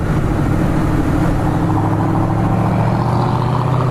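A GT 800 car engine drones as a loud, steady low rumble with a constant hum, close by and continuous, with no voices.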